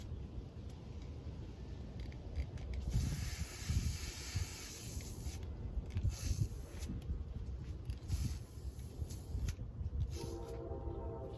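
Bursts of hissing spray from an aerosol can onto a Christmas garland, several short and long blasts in a row, close by and fairly quiet, with no talking.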